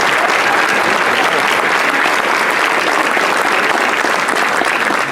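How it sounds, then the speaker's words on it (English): An audience at an officers' installation and awards ceremony applauds, a dense, loud and steady wash of clapping that holds evenly throughout without pause. "can we have a round of applause for all of our excitement?"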